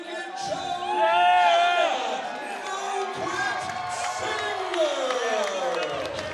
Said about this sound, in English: The crowd loves it here tonight.